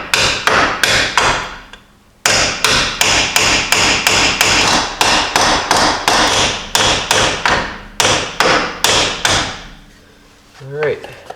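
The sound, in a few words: hammer whacking Jeep Dana 30/44 unit bearing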